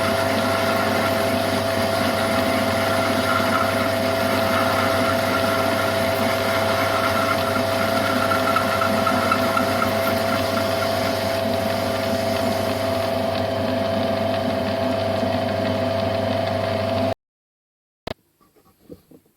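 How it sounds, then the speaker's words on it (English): A mini lathe cuts a thread gutter with a spring parting tool, giving a steady, loud machine hum with a constant motor drone for about seventeen seconds before stopping abruptly, followed by a few faint clicks. "Here I am cutting the thread gutter using a spring parting tool."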